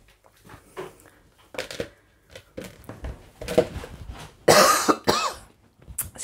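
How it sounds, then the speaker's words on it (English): A person coughs and clears their throat in short, irregular bursts from a pollen tickle, close to the microphone, with a louder harsh cough near the end. "ever since I've been outside, I've been either sneezing or coughing"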